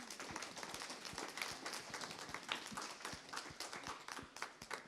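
Audience applause after a panel talk at an event on becoming a woman entrepreneur: steady, dense clapping from a room of people, fairly faint and even throughout, with no clear talking.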